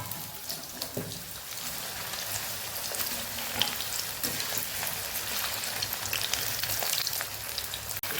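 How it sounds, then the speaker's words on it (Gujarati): Potato pieces deep-frying in hot oil, a steady close, bubbling sizzle that holds evenly throughout with occasional light stirring. "સેમ એ જ રીતે આપણે બટેકાને પણ તળી લેવાના છે।"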